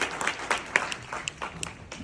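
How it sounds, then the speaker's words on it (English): Scattered applause from a graduation ceremony audience, a brief run of moderate, uneven claps heard from a distance. "I want everyone to give them a round of applause"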